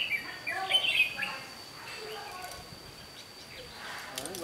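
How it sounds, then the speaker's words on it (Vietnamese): A trapped mộc songbird sings bright, rapid chirping phrases outdoors at moderate distance, the song fading after the first second, with a faint steady whine and low background murmur continuing underneath. "Con này ra dòng rất đều nhá."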